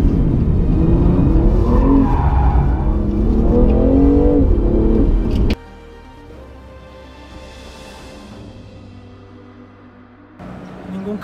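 A BMW M2 Competition in Sport Plus mode accelerates on a track, its engine roaring loud and close as it climbs through the revs before cutting abruptly to a much quieter, steady hum.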